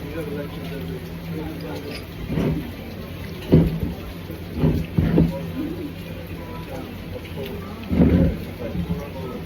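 Steady heavy rain hisses throughout, with bursts of gusting wind or low rumbles rising and falling; a voice murmurs faintly underneath.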